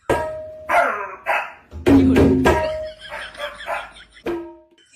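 A person imitates a dog with several short, loud barking yelps, separated by pauses, close to the microphone.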